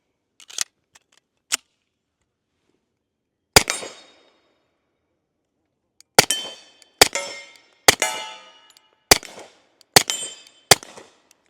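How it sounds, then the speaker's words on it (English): A suppressed Sig 1911 Series X stainless .45 pistol fires several sharp, muffled cracks with ringing tails, a few spaced shots early and then a quicker string of about seven near the end. "Nothing like a suppressed 45,"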